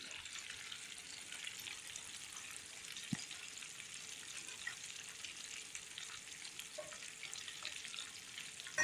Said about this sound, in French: Et puis on laisse cuire à feu doux.